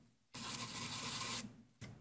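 Brush sweeping chips off a workpiece at a Shaper workstation, one long scratchy bristle stroke lasting about a second, close and fairly loud, followed by a brief second swipe.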